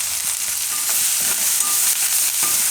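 Tomatoes and onions cook in a pan with a steady, close hiss of sizzling and frying, broken by a few soft scrapes of stirring, with no talk.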